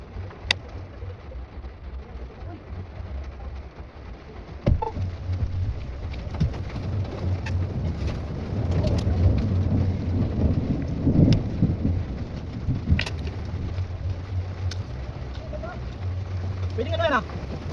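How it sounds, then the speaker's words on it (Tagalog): Steady rain falls in France, a constant wash of noise that grows heavier midway, with soft rumbles of thunder underneath and occasional sharp drips or knocks. "maliligo kami mga kads kasi umuulan dito sa Pransya ngayon"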